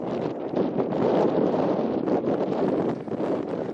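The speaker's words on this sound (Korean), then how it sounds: "고지대에 불어오는 거친 바람 때문에 눈보라는 더욱 거세집니다." Strong, gusty wind roars across an exposed high mountain pass during a snow flurry, a continuous broadband rush buffeting the microphone with no voices.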